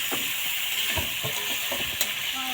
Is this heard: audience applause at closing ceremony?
no